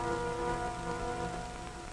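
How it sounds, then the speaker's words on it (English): Heavy rain falling steadily, a dense hiss of drops with faint tonal music beneath, moderately loud and unbroken throughout. "Rain. Rain for more days, days running into weeks."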